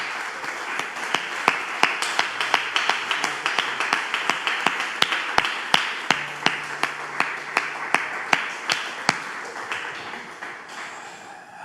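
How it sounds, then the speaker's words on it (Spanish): Church congregation clapping in steady rhythmic unison for about eleven seconds, crisp regular claps over a soft room wash. "¿Le puedes ofrecer un aplauso al Señor con todo tu corazón"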